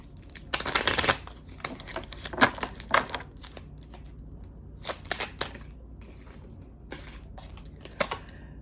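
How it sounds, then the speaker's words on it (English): Oracle cards being shuffled in a quiet room: several bursts of papery riffling and crisp card flicks, close and fairly soft, with short pauses between them and no voices. "Let's get a couple of oracle cards for you"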